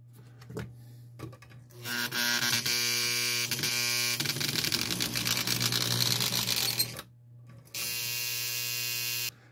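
A gummed-up motor in a model Alco diesel locomotive whirs in loud buzzing bursts, straining with an uneven rattling drone that cuts off abruptly and starts again, preceded by a few light clicks.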